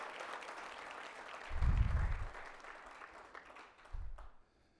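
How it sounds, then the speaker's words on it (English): Audience applause at a Georgia engineering awards brunch: a steady wash of many hands clapping that swells in the middle and again near the end, then fades off. "Wow, thank you for that thunderous applause."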